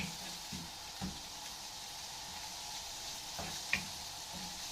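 Grated onion sizzles faintly in a pan while a spoon stirs it, giving a soft, quiet hiss broken by a few light scraping taps and one small clink.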